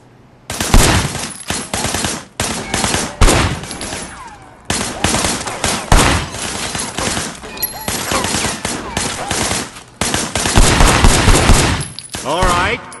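Sustained bursts of automatic gunfire in the Sleeping Dogs video game, loud rapid volleys in several long strings separated by brief pauses, with no talking over them.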